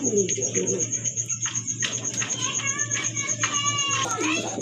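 Pigeons at a pigeon seller's stall, with a steady low cooing and scattered bird calls under nearby talk and children's voices, plus a constant high electrical whine.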